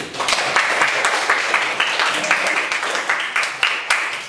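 Classroom applause from students, a steady patter of many hands clapping together, fairly close and even throughout, with no talk over it.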